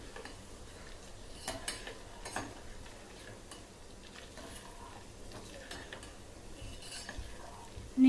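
Homemade desi ghee stirred in a pan with curry leaves: soft scraping strokes over a faint steady sizzle and crackle, with occasional light clinks of the spoon, quiet and close.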